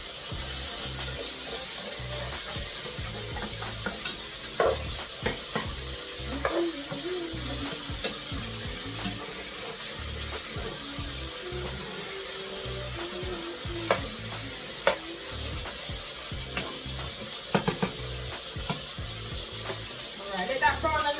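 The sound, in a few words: chicken browning in a pan with water added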